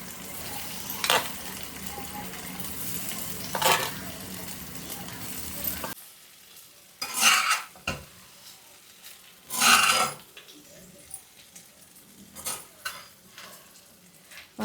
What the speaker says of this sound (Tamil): நல்லா தான் ஃப்ரை பண்ணியிருக்கேன்